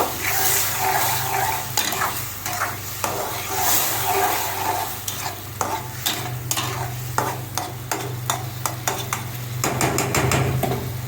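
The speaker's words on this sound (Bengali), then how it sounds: "মাছগুলো একটু কষানো হোক" Small malaiya fish sauté and sizzle in a pan with steady frying hiss, while a spatula stirs and scrapes against the metal in irregular taps and knocks.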